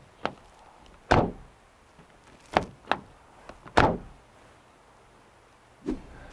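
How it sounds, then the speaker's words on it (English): Several hollow, tinny thuds and clunks of a Mazda CX-60's door being shut and handled, spaced irregularly in a quiet setting, two noticeably louder than the rest. "Just listen how tinny the door shut is."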